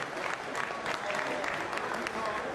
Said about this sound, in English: Round of applause for B.